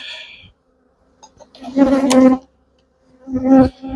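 Honeybees buzzing in a packed hive box full of honey and brood, a close droning hum that swells in two loud bursts between quieter stretches.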